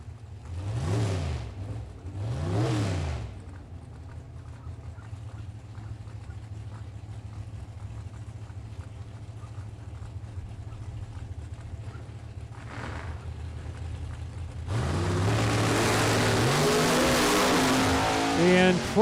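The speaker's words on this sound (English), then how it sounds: "Kurt in the left lane, the Chevette's going to dial 601. Clark in the right lane, the Oldsmobile's on a 531" A Chevette and an Oldsmobile at a drag race, with a loud roar of a race engine near the end following long stretches of lower crowd and track rumble, as announcers talk over the scene.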